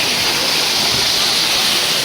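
Waterfall at a picnic spot near Vizag, a dense steady roar of falling water, close and loud, with no clear voices over it.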